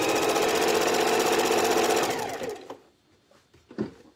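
A sewing machine runs in one steady, loud burst of rapid stitching for about two and a half seconds, then stops, leaving a few faint clicks and knocks.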